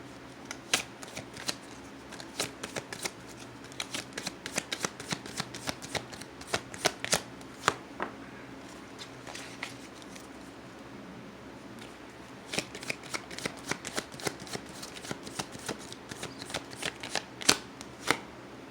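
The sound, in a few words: shuffling tarot cards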